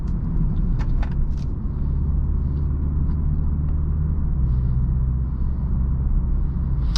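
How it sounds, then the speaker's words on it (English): Inside a 2020 BMW 330i on the move, the four-cylinder engine gives a low steady growl over road rumble, constant and moderately loud with no voices. "Very nice growl to the 4-cylinder."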